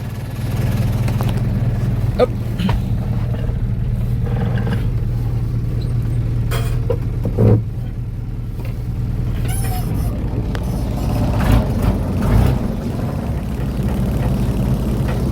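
Engine of a used Hino FC six-wheel dump truck revving, a loud steady low rumble with rising pushes of throttle, plus a few clunks, continuous throughout.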